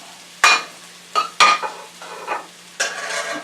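Shrimp, peppers, onions, cilantro and garlic hitting hot butter in a pan, a series of loud close stirring scrapes and clatters, each followed by a burst of sizzling, ending in a longer steady fry.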